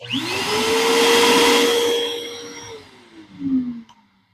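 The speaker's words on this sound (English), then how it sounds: "I've got a remote hooked up for this dust collector, so dust shop vac." A shop vacuum whines up to a loud, steady roar with a rising pitch, holds, then spins down as its motor winds off.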